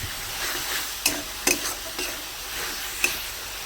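Spice paste stir-frying in oil in a village kitchen, a soft steady sizzle with a few sharp scraping knocks of the spoon against the pan scattered through.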